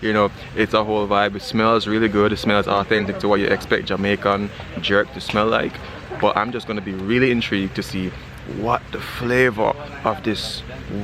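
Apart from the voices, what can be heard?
None of the usual background noises is heard.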